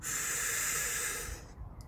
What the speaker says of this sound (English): So you breathe in, hold your breath, that takes about 8 seconds, and then breathe out.